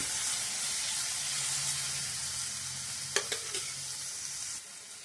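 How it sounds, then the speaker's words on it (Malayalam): Finely chopped tomatoes sauté in a pan for a small sardine fry, a constant hissing sizzle with a low hum beneath and a few sharp utensil knocks near the end, close and unbroken by speech. "വളരെ ചെറുതായി അരിഞ്ഞ തക്കാളി. ഇതെല്ലാം നന്നായിട്ടൊന്ന് വഴറ്റിയെടുക്കാം."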